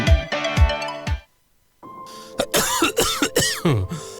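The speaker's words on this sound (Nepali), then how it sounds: "खोक्न फेरि सुरु भयो है।" A person coughs several times in quick rough bursts, then after a short pause more coughing and throat clearing follow over a faint background tone.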